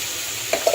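Tomatoes sauté in a pan with a soft, even sizzle, joined near the end by a couple of quick stirring scrapes.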